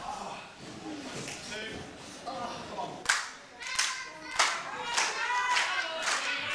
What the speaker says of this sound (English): come on guys, let's clap for both of us